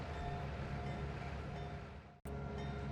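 A heavy diesel freight train of about 3,100 tons, pulled by three first- and second-generation diesel locomotives in the game Trainz, starts under load with a steady low rumble and engine drone and a brief cut near the end.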